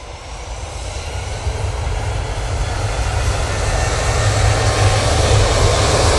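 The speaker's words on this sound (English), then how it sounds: "we will be going with the 737-800 for Ryanair." A Ryanair Boeing 737-800 jet at Manchester Airport gives a steady, loud engine roar that slowly builds over several seconds, with no voices.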